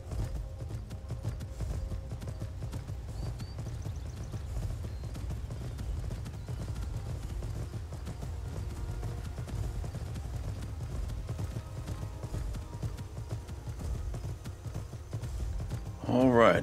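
A horse's hooves clip-clop at a steady ridden pace in the video game Skyrim, a soft, regular rhythm running continuously in the background until a brief louder burst at the very end.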